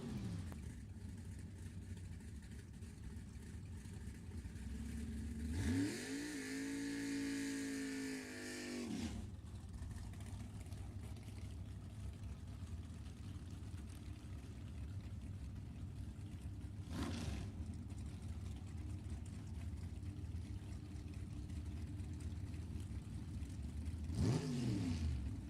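Drag race cars at T&A Race Club idle and creep toward the staging lanes with a steady low engine rumble, with one car revving up and down briefly and a few short blips later.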